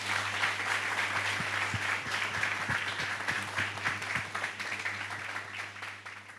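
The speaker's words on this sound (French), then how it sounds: "Kael, sous vos applaudissements." A TV studio audience applauds as a mentalist guest is welcomed, a quiet wash of many hands clapping with some sharper individual claps, over a steady low electrical hum.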